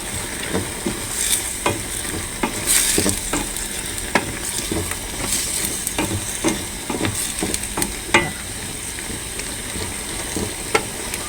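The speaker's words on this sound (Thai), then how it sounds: "ใส่กะเพราแล้วเจ๊ก็คน" Thai pork belly curry with pea eggplants and holy basil leaves stirred in a pot, producing a loud continuous bubbling sizzle broken by repeated scraping strokes of the spoon, close up and with no voices.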